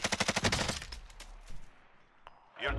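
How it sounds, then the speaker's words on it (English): Warzone video game gunfire: a rapid burst of automatic shots in quick succession, loud and close, then fading to scattered softer sounds and a brief voice near the end. "Oh, they're shooting at me."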